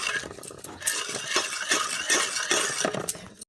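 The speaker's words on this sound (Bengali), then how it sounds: "এবারে ভালো করে আবার মেশাতে হবে।" Cake batter with oil being stirred in a bowl, a busy run of scraping and clinking of a spoon against the bowl, fairly loud and close, with no talking.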